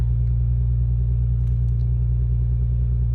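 A Volkswagen Passat R36 Variant engine idles steadily nearby, a constant low rumbling hum with no revving.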